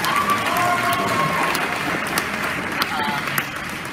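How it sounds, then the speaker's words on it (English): Audience at a Politicon debate applauds in a steady roar of clapping, with murmured voices and a few sharper claps standing out. "just because he sits down doesn't mean you have to stop applauding."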